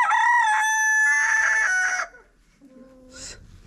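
A rooster crows loudly and close for about two seconds, followed by a short, fainter squawk.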